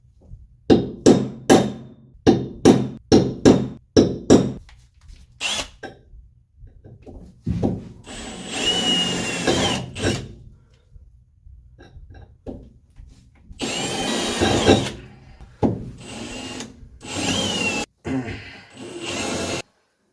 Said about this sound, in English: We have some pilot holes drilled for our slots.